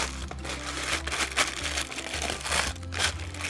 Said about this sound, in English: the best thing to do is crumple it up